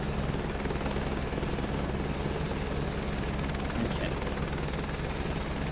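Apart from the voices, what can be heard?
helicopter rotor in video game Microsoft Flight Simulator 2024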